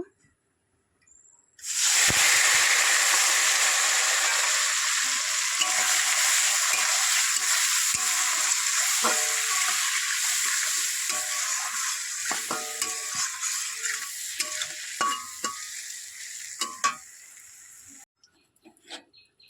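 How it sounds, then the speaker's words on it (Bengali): Fish roe coated in turmeric and salt frying in hot oil in a kadai: a loud, steady broadband sizzle starts abruptly and continues throughout, slowly easing, with occasional spatters and crackles toward the end. "কড়াইতে তেল দিয়ে দিয়েছি, ডিমে হলুদ লবণ দিয়ে দিয়েছি। এবার ভেজে নেব।"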